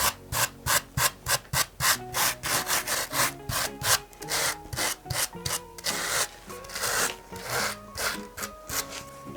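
A brush scrubs rhythmically over a carved styrofoam Mickey figure, fast rasping back-and-forth strokes close up, steady and dense with no talking.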